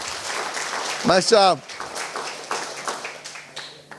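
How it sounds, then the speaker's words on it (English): Audience clapping for pancake breakfast volunteers at a community meeting, a steady broadband patter running the whole time, with a brief spoken remark partway through. "can I get a big round of applause for them?"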